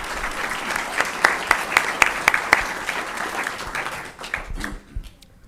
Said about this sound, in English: Round of applause for Gutierrez Middle School.